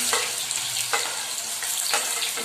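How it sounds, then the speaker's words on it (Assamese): Garlic and onion frying in a kadai give a loud, steady sizzle close up, broken by a few rhythmic scrapes of stirring, with no speech. "এয়া চাওক কেৰাহী পাতি লৈছোঁ এতিয়া। প্ৰথমে এতিয়া দিম নহৰুখিনি আৰু পিঁয়াজ"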